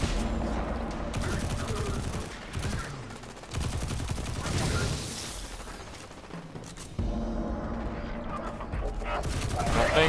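Sustained turret gunfire in the Destiny 2 video game, loud continuous automatic shooting that rolls on for several seconds with brief dips, voices talking over the barrage.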